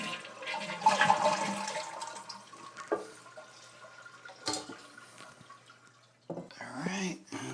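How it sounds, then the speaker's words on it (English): A toilet flushed with its water supply shut off to empty the tank, a gurgling rush that swells and then trails off into drips and trickles, with a voice talking near the end. "and flush to empty the tank."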